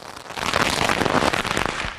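Fireworks crackle and pop in a dense, loud burst, a rapid rattling barrage of small explosions lasting about two seconds with no voices over it.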